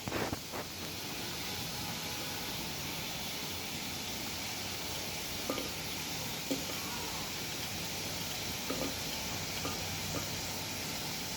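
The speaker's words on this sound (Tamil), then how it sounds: "அது பச்சை வாசனை போகிற வரைக்கும் சோட்டே பண்ணிக்கோங்க." A soft, steady sizzle of food sautéing in a pan, with occasional faint taps and scrapes of a ladle stirring, heard quietly at close range.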